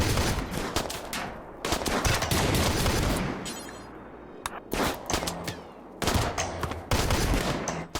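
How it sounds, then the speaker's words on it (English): Shotgun and rapid gunfire in the RimWorld video game, dense bursts of loud overlapping shots that pause briefly and then resume in heavy volleys. "That shotgun is doing some damage."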